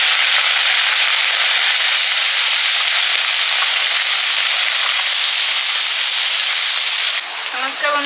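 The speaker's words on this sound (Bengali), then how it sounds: "মৌরলা মাছটা ভেজে নিচ্ছি।" Mola carplet fish frying in hot oil, a loud steady bright sizzle and hiss that runs without pause, easing slightly near the end.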